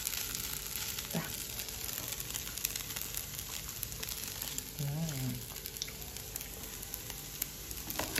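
Nasi goreng fried rice sizzles in a pan with a steady, faint crackling hiss throughout, broken by a brief murmur of voice partway through.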